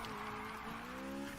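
A Honda S2000 drifting in the racing game Need For Speed Heat, its tires squealing in a steady, sustained skid over engine drone, moderately loud and with no talking.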